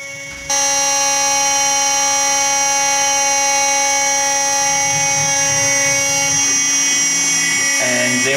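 A CNC machine cuts carbon fiber RC car parts with a loud, steady high-pitched spindle whine, holding one tone after it starts and shifting slightly near the end.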